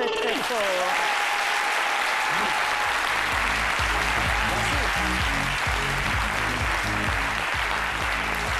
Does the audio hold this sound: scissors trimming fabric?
no